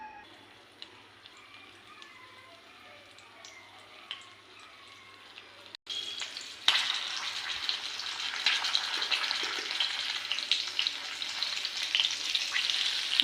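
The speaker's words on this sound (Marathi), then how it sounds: "तेल गरम करल्यानंतर भेंडी घालून घेत आहे" Okra frying in hot oil in a wok: a faint crackle at first, then a sharp jump into loud, dense sizzling that stays strong and steady to the end.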